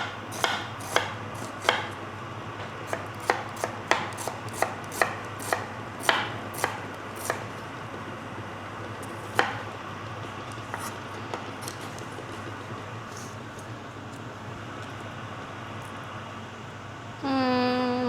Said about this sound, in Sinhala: මම ලුණු ටික හිමීට මෙහෙම ලියා ගන්නවා